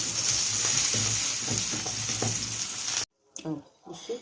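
Hawawshi bread frying in a pan gives a loud, steady sizzle with crackle and occasional stirring, close up; it cuts off abruptly near the end, followed by brief muffled handling sounds.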